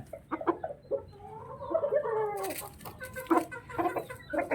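Roosters in San Miguel, Bulacan cluck repeatedly and crow in drawn-out calls nearby, several birds overlapping over a quiet background.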